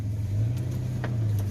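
A 1985 Chevy S10 pickup with a swapped 3-speed transmission idles and pulls away with a steady low engine rumble, close and even, with no talking.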